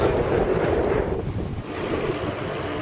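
Wind roars steadily across the microphone during a hot-weather bicycle descent near the Beit Jamal monastery and Dolev reserve, a loud constant whoosh with no voices.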